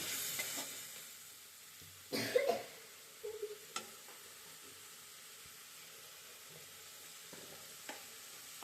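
Food fries in oil in a pan, a faint, low hiss broken by a few brief louder scrapes of stirring early on, then a quiet steady sizzle.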